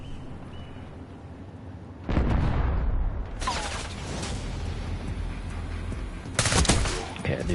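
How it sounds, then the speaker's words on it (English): Gunfire from a Call of Duty Black Ops 6 multiplayer match, aimed at the player, cracks in sharp loud bursts after a quieter stretch, with rattling shots and booming impacts spread across several seconds. "I knew somebody was shooting at me"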